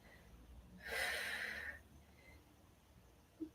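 A single forceful breath pushed out through the nose and mouth during a back sculpting exercise, a short quiet burst of air in an otherwise hushed room.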